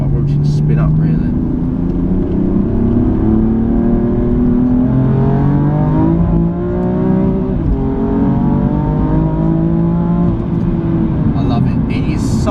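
A 510 bhp BMW M4 Competition engine revs hard and climbs steadily toward the red shift lights, its pitch rising in long sweeps, heard from inside the cabin with a voice talking briefly over it.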